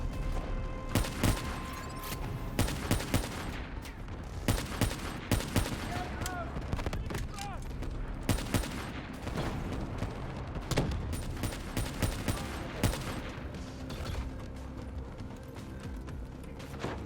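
Gunfire in Black Ops 3 on the Rise & Fall mission, with repeated sharp bursts over a dense, noisy mix of game sounds and a voice talking.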